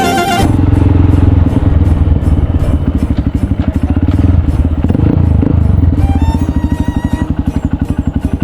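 A Honda CRF dirt motorcycle rides loud and close, its engine rumbling with rapid revving pulses and clatter throughout, and a brief rise in pitch near the end as the throttle changes.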